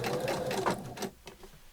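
A sewing machine stitching applique onto hessian for a beginner's storage caddy, a close, rapid rhythmic whir that runs for about a second before slowing and stopping with a couple of final clicks.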